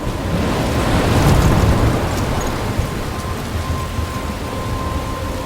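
Rainstorm in the Life Is Strange game, a dense steady hiss of heavy rain with a low thunder rumble swelling near the start and then fading under the downpour.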